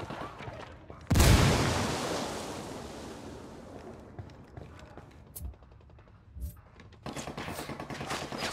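A grenade blast in the video game Ghost Recon Wildlands erupts loud and sudden, then decays into a long rumbling wash, followed by sporadic sharp cracks of gunfire and a burst of rapid shots near the end.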